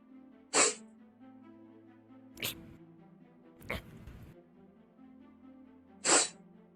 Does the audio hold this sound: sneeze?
yes